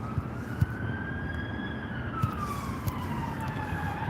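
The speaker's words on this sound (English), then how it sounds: "Okay, 2 police cars." Police car sirens wail in the distance, a rising and falling tone sliding slowly under a steady rumble of outdoor traffic noise, with a few soft knocks.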